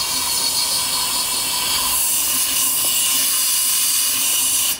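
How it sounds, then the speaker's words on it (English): Compressed air hisses steadily into the fuel tank of a Briggs and Stratton lawnmower, a constant loud, broad rush of air that holds unbroken for several seconds. "One of the things that really helps to do is blowing air in the tank"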